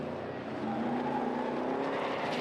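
Classic sports and saloon racing cars roar in the distance sliding sideways up the main straight at Knockhill, a sustained droning rumble, their pitch rising slightly.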